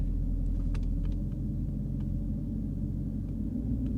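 A Mercedes S63 AMG idles with a deep, steady engine rumble as it is put in gear and creeps off, heard close with a few faint clicks above the drone.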